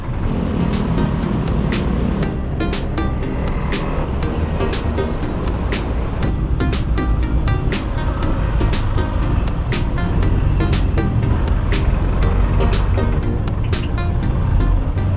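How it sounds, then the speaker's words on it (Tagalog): Heavy road traffic at the Rotonda in Tagaytay City, heard from a Honda PCX scooter on a Batangas road trip: a steady, loud roar of engines and wind with scattered sharp ticks and knocks, and no clear talk. "Grabe, napaka-traffic pala dito sa Tagaytay."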